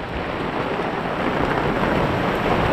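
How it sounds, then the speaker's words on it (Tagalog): Heavy rain pours down in a dense, continuous roar, loud and close, with no voices. "Makalakas ang ulan!"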